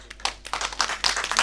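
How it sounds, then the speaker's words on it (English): An audience at a live improv comedy show for children claps to vote. The applause starts sparse and swells into dense, steady clapping that grows louder toward the end. "Clap for that one."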